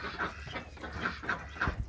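Chickens clucking on a farm: several soft, repeated clucks from nearby birds over a low background murmur.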